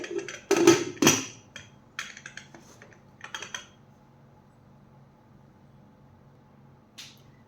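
A lid is fitted onto a pressure cooker holding water for beetroot cutlets: a few sharp, close metallic clacks and scrapes near the start, then lighter taps and quiet.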